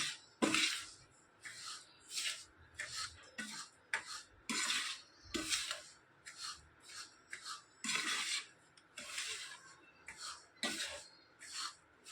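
Spice masala for a sweet and sour raw mango pickle gets mixed in a series of rhythmic scraping, rubbing strokes, close and fairly quiet, repeating about once a second with short pauses.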